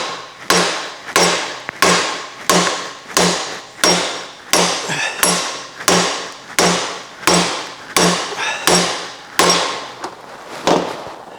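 A hammer pounds a stuck part out of an old 80-year-old motor held in a vise, about seventeen sharp metallic blows at a steady, roughly half-second rhythm, each strike ringing briefly and fading, loud and close with no talking.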